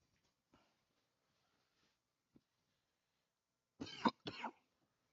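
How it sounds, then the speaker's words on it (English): Two sharp coughs close to the microphone, loud and sudden, following a few faint clicks and rustles in near silence. "Don't be coughing into the mic."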